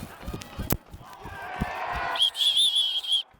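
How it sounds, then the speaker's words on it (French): A referee's whistle sounds as a goal goes in at a football match, one long shrill blast after a stretch of thumping footsteps, knocks and loose crowd noise. "I'm whistling every time a goal goes in here"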